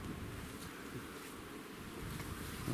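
Bees hum steadily at an apiary in Moldova, a faint, continuous drone mixed with wind noise outdoors, with no voices.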